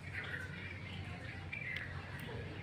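Birds chirp and twitter faintly against a steady low background hum, with a few clearer tweets rising now and then, like a morning chorus at a distance.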